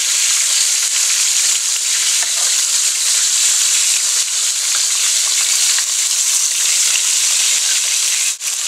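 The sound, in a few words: chicken pieces frying in a pan after being turned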